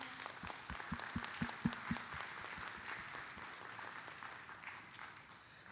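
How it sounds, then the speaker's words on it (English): At a Montgomery family forum on fentanyl and Narcan training, the audience applauds the young people who attended. A few sharp, distinct claps stand out early, then the clapping thins into a softer, fading patter. "give a big round of applause to all of the youth who turned out today"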